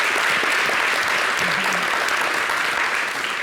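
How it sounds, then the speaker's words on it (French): A French television studio audience applauds steadily and loudly, a dense wash of clapping that holds from start to finish with no voices over it. "merci pour les applaudissements différés"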